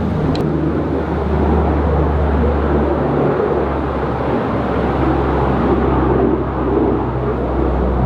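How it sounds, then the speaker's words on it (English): A Coast Guard plane drones overhead as a steady, broad engine rumble over open water after a hurricane, loud and continuous, mixed with wind noise and no talk. "Coast Guard plane."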